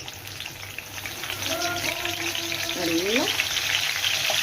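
Mustard, fenugreek and cumin seeds frying in hot oil for a Tamil small-onion kara kuzhambu, a steady broadband sizzle with crackling pops, while someone speaks briefly over it.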